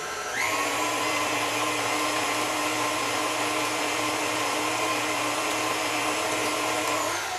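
An electric mixer whirs steadily, beating vanilla into cookie dough for deli-style cookies; a loud continuous motor drone runs nearly the whole time with no talk over it.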